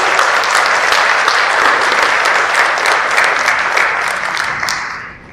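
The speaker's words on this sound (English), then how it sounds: "I think he needs a big round of applause," Audience applause fills a panel discussion on startups in Maharashtra, a dense, steady wash of many hands clapping close and loud, thinning and fading out near the end.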